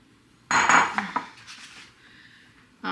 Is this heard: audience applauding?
no